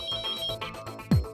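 Telephone ringing in a garment shop office: background chatter and music bed continue, then a single loud descending electronic ring tone sweeps in near the end.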